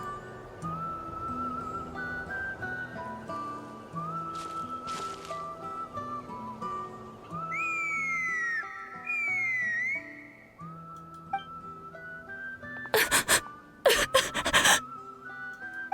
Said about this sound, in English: Oh, that's a loud whistle.